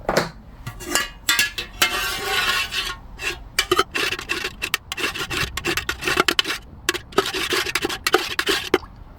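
Mica powder being stirred into melted wax for scented wax melts, a close, continuous scraping and rubbing of utensil against container with rapid irregular strokes throughout, no talking.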